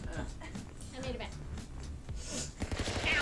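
Rapid gunfire bursts crackle in the video game Stick Fight, mixing with talk and a busy game soundtrack, ending in a denser flurry of shots.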